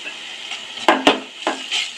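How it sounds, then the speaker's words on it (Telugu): Ginger paste frying in a pan for mutton rogan, a soft steady sizzle broken by a few sharp clinks and scrapes of a spoon stirring against the metal pan, close and alone. "ఇది పచ్చి స్మెల్ పోయేదాకా వేయించుకోవాలి"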